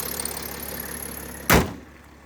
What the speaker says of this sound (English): Close the boot.